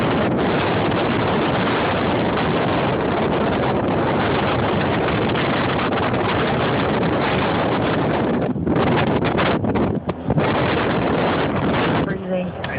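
Roaring blizzard wind during a Chicago snowstorm, loud and continuous buffeting against the microphone with gusty surges that ease slightly near the end, while people talk beneath it.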